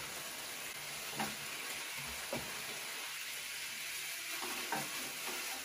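Black beans and carrots frying in a pan while being stirred, a quiet steady sizzle with occasional soft scraping stirs, close by and without speech.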